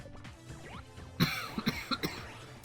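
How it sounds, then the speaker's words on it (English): A person coughs several times, a rough throat-clearing followed by a short series of harsh, close coughs with brief pauses between. "I do apologize for the coughing."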